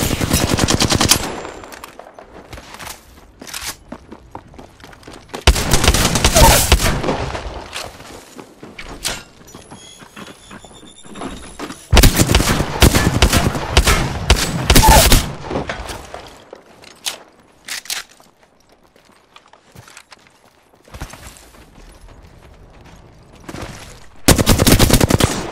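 Loud automatic weapon fire in the Apex Legends shooter video game comes in several long bursts separated by quieter gaps with faint footsteps and shuffling.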